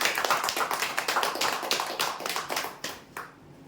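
A crowd applauds a prize draw winner, with dense, close clapping that holds steady and then thins out and fades near the end, no talk over it.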